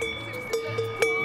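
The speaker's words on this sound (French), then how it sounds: "On a notre petite cloche pour la suite." Small Savoyard cowbell shaken at a chocolate show, giving a few bright metallic clanks with a sustained ringing tone between strikes, close and clear.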